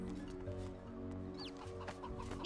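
Chickens cluck in short, scattered calls across a busy fantasy game soundtrack in Divinity Original Sin 2, with a louder burst at the very end.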